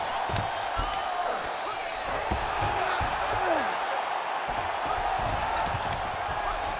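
Arena crowd noise from the UFC 5 video game, a steady roar of cheering and whooping through a Kamaru Usman versus Nick Diaz bout as the fighters rise from grappling, with a few thuds mixed in.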